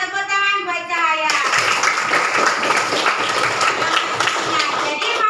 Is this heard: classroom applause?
yes